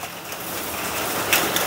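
Heavy rain pouring down outdoors, a dense, steady hiss of drops hitting surfaces, close and continuous with no voices.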